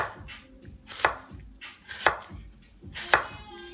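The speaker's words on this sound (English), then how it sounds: "Back to cutting onions." Onions being chopped by knife on a board, three sharp, evenly spaced chops about a second apart, close and clear with faint kitchen clatter.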